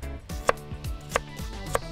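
A kitchen knife chops through pre-scored food on a cutting board, three crisp sharp knocks spaced about half a second apart, close and moderately loud.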